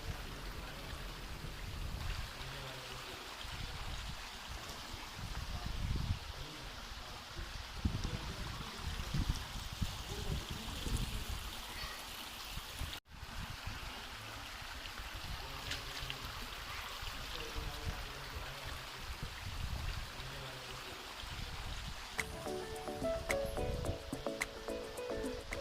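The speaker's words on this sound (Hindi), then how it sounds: "बहुत ठंडा और बहुत साफ़ पानी है, ड्रिंकिंग स्प्रिंग वाटर है ये।" Cold, clear spring water in a narrow gorge at Ziarat, a steady, fairly quiet stream rushing and trickling over rocks without a break, no voices.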